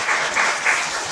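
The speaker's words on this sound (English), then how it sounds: "Now we will begin with a big round of applause from all of you." Big round of applause from a symposium audience at an early-morning international academic event, a dense steady wash of clapping filling the short moment at even loudness.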